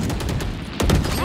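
Gunfire from the tactical shooter Valorant, a loud sharp burst of shots near the end over steady game noise, with a voice talking faintly in the background.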